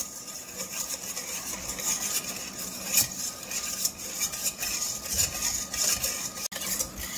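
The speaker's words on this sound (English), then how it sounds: "start whisking until it's all creamy and foamy" Dalgona coffee being whisked in a bowl, giving a steady, continuous scraping and rasping whir with small swells, close up and alone.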